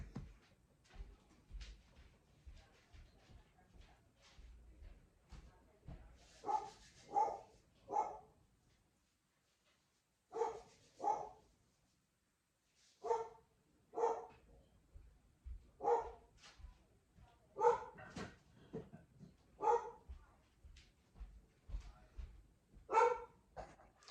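A dog barks repeatedly in short bursts and clusters, moderately close, with a few quiet gaps between volleys and no talking.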